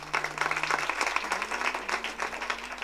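Crowd at a kirtan devotional gathering breaking into applause, many hands clapping in a steady brisk wash, close and sustained, with a faint hum running underneath and no speech.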